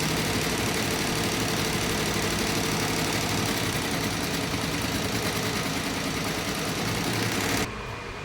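Computer embroidery machine stitching neck and back designs, a loud, steady mechanical hum and rapid rhythmic clatter running continuously at close range before abruptly dropping off near the end.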